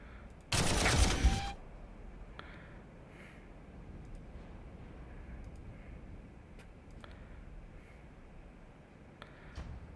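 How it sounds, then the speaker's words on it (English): Basilisk artillery fires once in the video game Warhammer 40K Armageddon, a loud, sharp blast lasting about a second, followed by quiet ambient noise with a few faint ticks. "I want to take the basilisk over here so I can just shoot him up"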